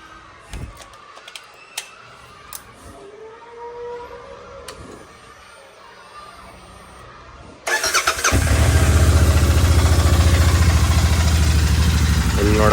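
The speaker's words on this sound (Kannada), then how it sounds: "ಫಸ್ಟಿಗೆ ಕೋಲ್ಡ್ ಸ್ಟಾರ್ಟ್ ಮಾಡೋಣ" A Royal Enfield motorcycle, its engine freshly polished after the rainy season, is cold started: a few clicks and a quiet starter whirr, then the engine catches and settles into a loud, steady, thumping idle close by.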